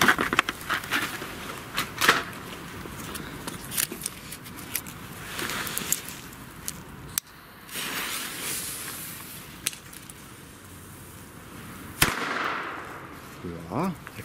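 Three Broekhoff Reaper firecrackers go off in sharp bangs at irregular intervals outdoors, some followed by crackling and hiss, with a voice heard faintly at times.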